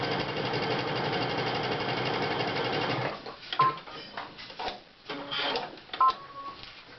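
Sewing machine stitching an applique onto a background fabric with a short zigzag, running fast and steady for three seconds before stopping, followed by scattered clicks and handling noises.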